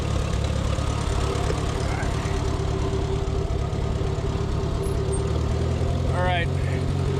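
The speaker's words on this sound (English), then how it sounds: "I'm going to show you that PTO in action now" A tractor engine runs steadily and loudly with its PTO driving a grass mower, a constant low mechanical drone filling the whole stretch, with a brief rising whine near the end.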